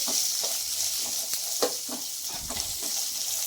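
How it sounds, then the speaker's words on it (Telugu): Onions fry in a pan with curry leaves and dried red chilli for jowar flakes upma, giving a steady close sizzle broken by soft stirring scrapes. "ఆనియన్ దీంట్లో వేసేసుకొని ఆనియన్ కొద్దిగా మెత్తపడే వరకు వేయించుకోవాలండి"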